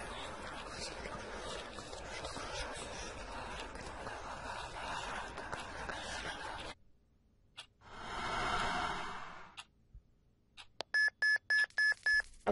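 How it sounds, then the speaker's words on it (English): A short series of repeated electronic notification beeps sounds near the end, signalling an incoming text message in the Empty Soul video game, after a stretch of dense background noise and a brief whooshing swell. "Text message."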